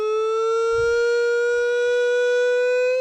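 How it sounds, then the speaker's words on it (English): Police siren sound effect from a soundboard, a steady loud electronic wail holding a pitch with rising harmonics, played alone without talk for about three seconds. "Do the police sirens."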